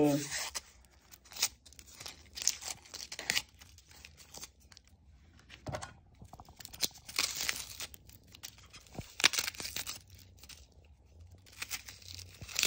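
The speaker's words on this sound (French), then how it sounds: "on va préparer les oignons. Vous voyez, je découpe" A knife slicing onions on a board makes crisp, irregular cuts and crunches with short pauses between strokes, close and fairly quiet, with a voice speaking at times.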